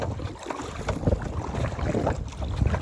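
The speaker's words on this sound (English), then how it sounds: "you can hear the paddles paddling kind of hard because we have to paddle against the wind" Canoe paddles splash and pull hard through pond water in an uneven rhythm, paddling against the wind, while wind rushes past the microphone.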